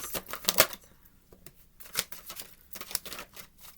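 Cards riffle and snap in quick bursts, close up, with brief pauses between shuffles and no talking.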